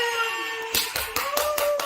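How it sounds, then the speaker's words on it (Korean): A few sharp hand claps ring out in a quick uneven burst over a background of electronic game music. "박수!"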